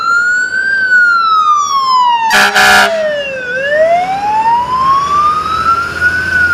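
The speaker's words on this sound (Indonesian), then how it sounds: "Yuhu, keluarlah truk pemadam kebakaran." A toy fire truck's siren wails loudly and close by, sweeping up and down in pitch, with a short clattering burst partway through.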